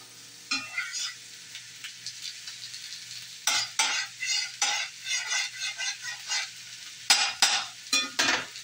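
Eggs are cracked straight into a hot iron skillet and fry, producing loud bursts of crackling sizzle that flare up repeatedly over a quieter background hiss.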